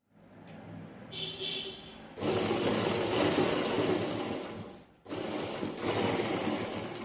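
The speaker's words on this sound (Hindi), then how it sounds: "ऊपर से हम सिलाई लगाना स्टार्ट करेंगे।" A sewing machine stitches the seams of a lined kameez in steady, close-up bursts: a short light run, then a long continuous whir, a brief stop, and another sustained run.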